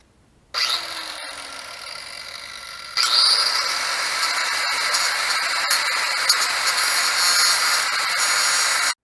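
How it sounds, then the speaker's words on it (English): Angle grinder grinding the rivets off a motorcycle chain link: a steady high-pitched whine starts, then jumps louder as the disc bites into the metal and keeps up a continuous harsh grinding for several seconds, with no talk. "I'm just using an angle grinder, and I'm going to just fudge off the rivets on the end of that."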